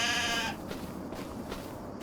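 A goat with a skull-mask-like coat pattern in the farming video game Farming Simulator 25 lets out one loud, wavering bleat that cuts off abruptly, leaving a quiet game ambience.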